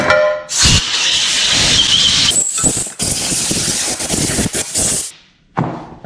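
Compressed air blasting out an engine oil pan for a 6.0 LS engine rebuild, loud hissing bursts of several seconds separated by brief pauses, close up with no talk.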